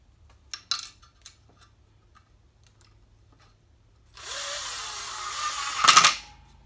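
A power drill drives a screw through an ABS pipe bracket into a board with a driver bit, a short whirring burst near the end after a few light handling clicks and taps, close and clear.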